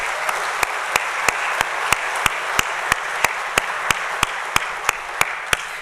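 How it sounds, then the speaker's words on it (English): Audience applause for four new police officers at an Edinburg PD badge pinning ceremony: steady crowd clapping fills the room at an even level, with a regular sharp tap-like click repeating about every third of a second over it. "Let's give them a round of applause."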